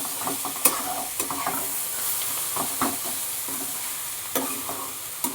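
Grated bottle gourd fries with chicken in a pan, a bright continuous sizzle under repeated scraping stirs of a spatula, close and fairly loud.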